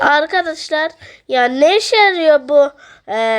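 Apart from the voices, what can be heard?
No everyday noises stand out.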